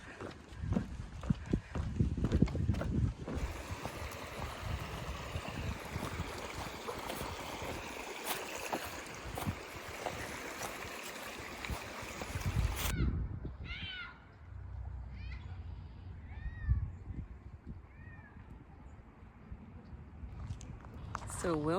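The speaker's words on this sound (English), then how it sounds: "Pretty little creek." Steady rushing water of a small creek, continuous broadband flow, louder in the first half and softer later, with a few faint bird chirps.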